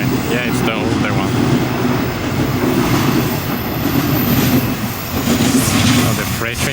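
A long freight train rolls past near the tracks in a seaside city in Onomichi, Japan, its wheels clattering in a steady rhythmic clack with occasional squeals, loud and close, while people talk over it.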